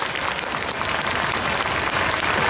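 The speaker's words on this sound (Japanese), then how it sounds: "盛大な拍手をお願いします。" Audience applause at a football club's 2024 new-uniform unveiling talk show for Oita Trinita, a dense, steady wash of clapping from a crowd that holds loud and even throughout.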